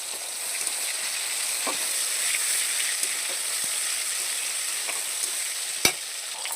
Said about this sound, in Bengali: এবার এটাকে একটু হালকা করে ভেজে নেব চিকেন হালকা করে ভেজে একটু